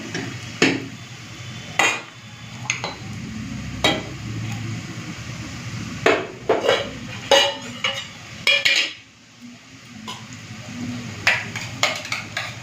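Ginger-garlic paste and dry red chili paste go into onions already fried until reddish-brown, for a Bengali chicken curry with potatoes. A spoon scrapes and clinks against the pan in irregular knocks over a low steady sizzle, close and with no talk.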